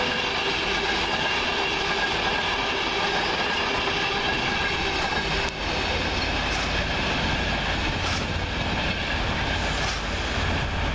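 A passenger train on the London King's Cross to Edinburgh Waverley line rumbles steadily past at close range, a loud continuous roar with rhythmic wheel clatter and occasional brief squeals throughout.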